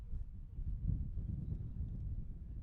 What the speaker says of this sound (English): Some big gusts of wind blowing out here